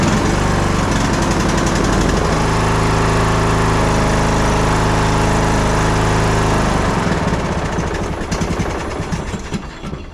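A small engine, started with a screwdriver while a jump pack is hooked up and the seat switch is disabled, runs loud and steady with a rough, throbbing drone, then its tone thins and fades over the last few seconds.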